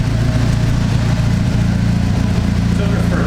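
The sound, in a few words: Mitsubishi Eclipse GSX engine on a test drive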